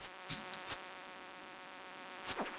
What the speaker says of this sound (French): on a le bruit de la mouche en plus qui ne s'arrête pas là